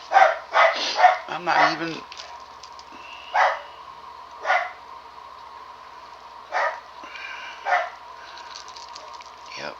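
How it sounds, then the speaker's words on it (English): Several dogs bark at something in short, scattered bursts spread across the stretch, fairly close, while someone talks intermittently in between. "You can enjoy the sound of the dogs barking at something."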